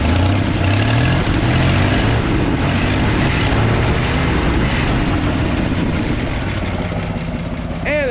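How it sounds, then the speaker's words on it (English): A car engine with a bad exhaust leak and a bad accelerator pump runs continuously with a rough, puffing rumble, steady and close throughout. "This thing has got a bad"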